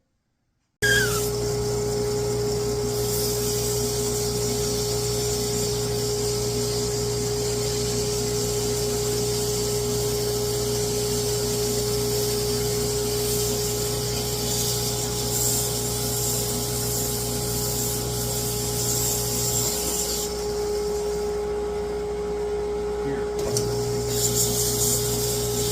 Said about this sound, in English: Okay, time to sand.